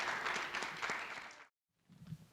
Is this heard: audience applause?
yes